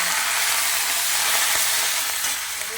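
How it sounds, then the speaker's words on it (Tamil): Curry leaves frying with popped mustard seeds in hot sesame oil for a Tamil sundakai vatha kuzhambu, a loud, close, continuous crackling sizzle that stays steady throughout. "கடுகு நல்லா வெடித்த பிறகு நம்ம கருவேப்பிலையை போடணும்."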